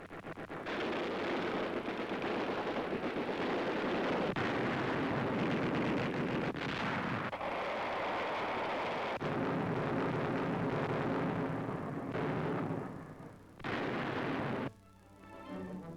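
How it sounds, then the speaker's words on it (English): Gunfire in a WWII newsreel of an American landing under fire off the coast of Africa, rendered as dense, continuous rumbling bursts and cracks on a worn, distorted old soundtrack that drops out briefly near the end. "United States reinforcements beating off a German attack as the Americans land under fire."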